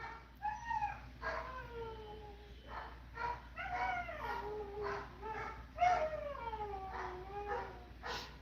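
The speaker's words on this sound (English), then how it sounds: "Listen to my lovely doggies." Several dogs howl and yip in a wavering chorus, with rising and falling cries repeating for about eight seconds, close and fairly loud against a low steady hum.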